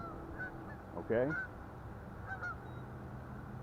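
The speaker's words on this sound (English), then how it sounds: "you can hear the geese. Listen to them." Geese honk outdoors near a crappie fishing hole: a loud burst of several overlapping honks near the middle, then a fainter pair of calls, over steady low background rumble.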